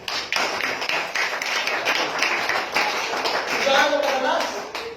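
A church congregation clapping at a Spirit baptism service, rapid overlapping hand claps forming a busy rhythmic patter that runs for several seconds, close and fairly loud, with a few voices mixed in.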